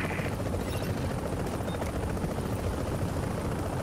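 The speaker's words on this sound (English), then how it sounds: "Off it goes up to the chopper." Helicopter in the video game The Division, hovering for a Dark Zone extraction: a loud, steady, continuous rotor and engine roar filling the whole clip with no talk.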